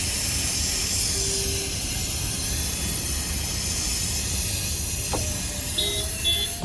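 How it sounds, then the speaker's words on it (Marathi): Steady loud hiss of gas escaping from a faulty valve on a tempo van, continuous and close, with faint street noise and a brief tone partway through. "हा जो टेम्पो आहे ना, ह्याचा गॅसच लीक होतोय."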